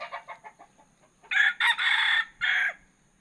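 A young SBR gamefowl rooster crows loudly in several close, drawn-out bursts after a run of soft, rapid clucks.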